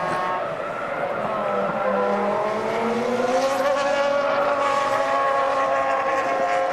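Formula 1 cars from the 2000 Canadian Grand Prix qualifying session race past, engines whining high and rising in pitch as they sweep by, loud and continuous with overlapping engine tones, with no talking.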